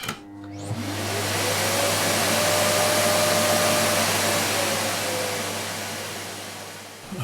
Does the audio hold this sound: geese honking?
no